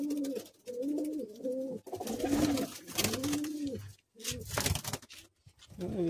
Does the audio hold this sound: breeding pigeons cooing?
yes